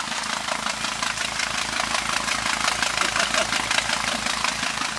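A Volkswagen Kombi van engine idles with its muffler partly underwater during heavy rain, giving a steady rumbling drone with a dense hiss of rain or bubbling water over it throughout, close and continuous.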